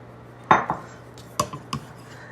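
A utensil knocks and scrapes against a bowl while flour is stirred into sourdough dough for a sandwich loaf, a few sharp close clinks in two quick pairs over a quiet background.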